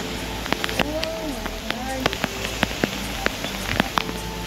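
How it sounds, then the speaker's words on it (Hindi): Steady rain falls outside a home, a constant wash of drops spread across the whole moment with scattered sharper drips and patters, while a voice speaks briefly over it. "और ये देखो बारिश,"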